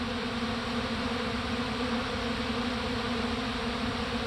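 Honeybees swarm over dry pollen substitute in winter, producing a steady, dense buzz of many wings that holds at an even level close by, with no pauses and no voices.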